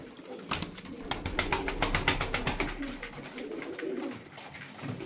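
Tumbler pigeons coo repeatedly and close by, soft throaty calls in a steady rhythm, with faint fluttering and shuffling in the background.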